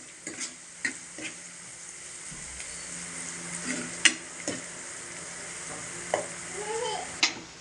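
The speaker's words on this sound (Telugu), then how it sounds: "కొంచెం కలర్ వచ్చేదాకా మనం మంచిగా వేపుకోవాలి" Onion pieces and green chilies fry in a pan for a Telugu ridge gourd and chana dal curry, giving a steady low sizzle broken by sharp scraping stir strokes, close and moderate in level, with no talking.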